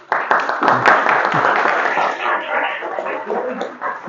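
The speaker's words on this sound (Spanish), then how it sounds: "Vamos a recibir la charla de Gustavo Vera con un aplauso." An audience at a Python community meetup applauds to welcome a speaker's talk, a loud burst of clapping that gradually fades away over a few seconds.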